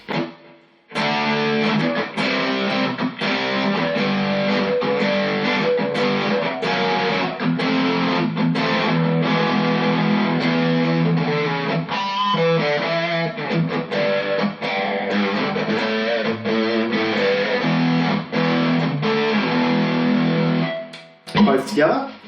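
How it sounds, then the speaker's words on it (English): A Maybury custom-built "Off The Shoulder" electric guitar played through distortion, loud, sustained overdriven chords and riffs ringing out steadily for about twenty seconds before cutting off. "Throw in a bit of distortion and see how we get with that."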